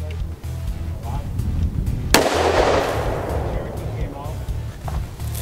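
A single loud gunshot fired into a four-inch-deep sand-filled box, a sharp close blast with a rumbling decay over a low steady background hum.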